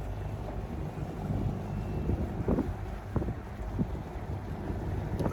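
Wind gusting across a river, rumbling steadily into the microphone with a few louder buffets, no talking.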